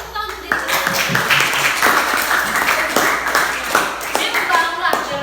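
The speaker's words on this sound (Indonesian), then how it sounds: "Kita tepuk tangan untuk diri sendiri" Schoolchildren in a classroom clap for themselves, a bright, busy flurry of small hands close by, with a teacher and children's voices speaking over the clapping throughout.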